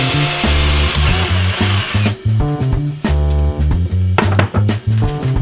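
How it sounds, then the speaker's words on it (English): A power drill bores pilot holes into a van ceiling during cladding work, its whining motor running in several close, loud bursts with brief pauses and changes in pitch between them. "So first I'll drill the pilot holes."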